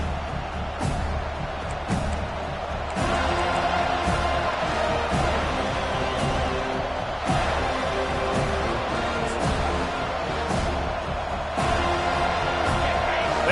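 A large stadium crowd at a Florida State versus Ole Miss college football game keeps up a loud, continuous roar of cheering, with sharp claps and bangs cutting through and a commentator's voice faintly underneath.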